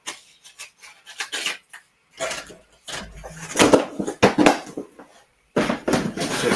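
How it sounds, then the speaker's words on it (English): Wave sanding sticks scrub putty on a Hasegawa 1/72 scale VF-1D plastic model, giving quick, uneven bursts of dry, close scratchy rasping separated by short pauses, with no talking. "wave sanding sticks"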